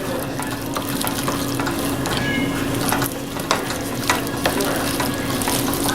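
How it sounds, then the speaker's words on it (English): Homemade macaroni is stirred into creamy gravy in a pot, producing soft, continuous wet stirring and scraping sounds with a few sharper clicks of the utensil, close by and with no speech. "Let's go ahead and stir this in."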